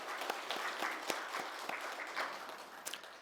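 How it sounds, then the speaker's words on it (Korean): A church congregation gives a round of applause during a Sunday worship service, steady overlapping clapping heard at a moderate distance for about three seconds. "크게 영광의 박수를 돌립니다"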